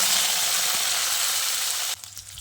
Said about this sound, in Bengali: এবার এই ঘি আর সাদা তেলের মধ্যে আলু আর কচুটাকে ভেজে নিতে হবে